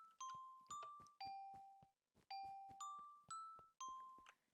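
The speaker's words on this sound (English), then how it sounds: "you have your doorbell! And it sounds so good!" A Minecraft doorbell plays a chiming ding-dong melody twice, bright bell-like tones struck in a descending then rising pattern, each note ringing briefly before the next.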